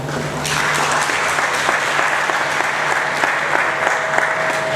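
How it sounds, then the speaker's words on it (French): Dense audience applause at the Congo Awards ceremony, a steady even wash of many hands clapping that holds at a fairly loud level throughout. "Est-ce que vous pouvez applaudir vous-même?"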